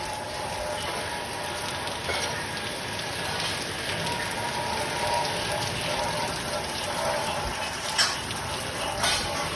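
Monsoon rain falls steadily outdoors in Gujarat, a dense, even hiss of drops on surfaces with occasional louder drips, continuous and moderately loud.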